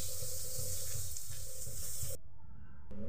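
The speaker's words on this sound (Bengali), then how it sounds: "ডালটা গাঢ় হয়েছে, এটাতে একটু গরম জল ঢেলে দিচ্ছি" Hot water pours steadily into dal in a kitchen, a continuous loud rushing splash for about two seconds that stops abruptly, leaving quiet room tone.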